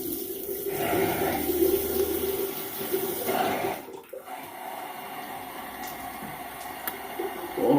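Cold water runs from a bathroom tap in a steady splashing rush, briefly broken midway and then resuming a little softer, with no voices.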